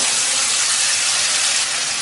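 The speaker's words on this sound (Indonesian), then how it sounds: "Kita akan tumis bumbu yang sudah tadi kita haluskan ya." Spice paste sautéing in a wok with a little oil, a steady, close, broadband hiss of frying that holds evenly with no talk over it.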